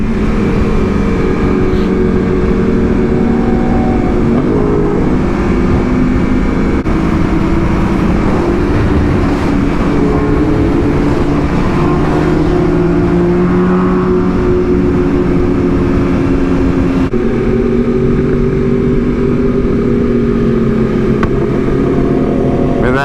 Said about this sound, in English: some more bikes just pulled up